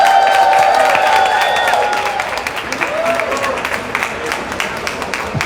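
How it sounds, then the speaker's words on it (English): A crowd at a ribbon-cutting ceremony for the Black Women's Expo in Chicago gives a steady round of applause that swells loudly at first, then slowly thins out, with voices mixed in. "That's a nice round of applause."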